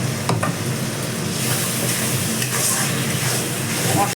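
Spiced masala for a duck egg curry with potato and cauliflower fries as spice-rinsing water goes in, giving a loud, dense, steady sizzle that stops abruptly.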